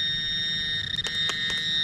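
A metal detector sweeping a yard sounds off on a shallow target, a steady high-pitched electronic tone with a few brief pulsing chirps layered over it, close and fairly loud.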